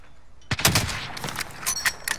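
Gunfire in the video game Call of Duty: Modern Warfare: a cluster of sharp, fairly close shots starting abruptly, followed by scattered further bursts over a couple of seconds, with no talking.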